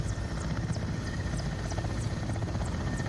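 Mi-17 helicopter in Microsoft Flight Simulator coming in to land over dust, its big rotor giving a loud, steady droning thump with a high whine, continuous and close throughout.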